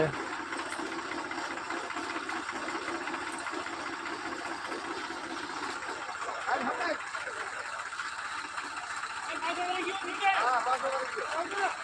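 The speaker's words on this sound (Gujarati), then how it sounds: "ટ્રેક્ટરથી દવા છાંટવાનું કામ ચાલુ કરેલ છે" A tractor engine runs steadily while spraying pesticide in a farm field, a close, even mechanical drone with a rapid rattling texture, while people talk over it.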